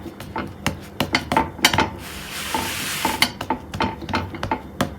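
A chapati cooking on a hot pan while being pressed down, with repeated sharp taps and scrapes of a utensil against the pan over a brief sizzle, no talking.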